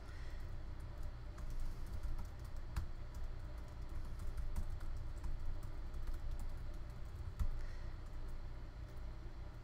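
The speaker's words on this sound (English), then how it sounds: "But I've just gone in and I'm typing it." Typing on a computer keyboard while transcribing audio, a quiet run of irregular key clicks with a few sharper taps over low background hum.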